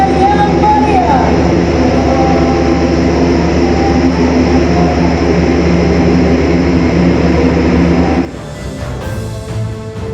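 Loud, steady roar of an Airbus A400M heavy transport aircraft landing, sustained and droning for several seconds before dropping abruptly to a quieter rumble near the end.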